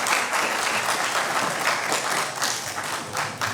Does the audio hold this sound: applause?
yes